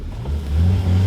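Car engine revving hard in first gear with the tyres spinning and burning, a rising low growl that swells and holds loud and close for about a second.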